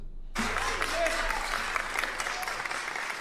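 A crowd breaks into sustained applause after a brief silence, a dense, steady clapping that continues at even loudness to the end.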